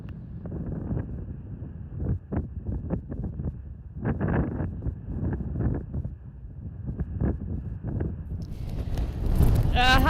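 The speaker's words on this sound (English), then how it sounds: "it is really windy and I've got my microphone inside my jacket" Strong wind buffets a microphone tucked inside a hiker's jacket on an outdoor trail, producing heavy low rumbling gusts and rustling, with a person talking underneath.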